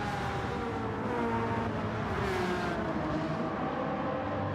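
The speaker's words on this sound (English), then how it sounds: "But Aventadors are noisy." Engine of a Lamborghini Aventador in a racing video game, a steady loud whine and roar that holds throughout with shifting tones, as if accelerating along the track.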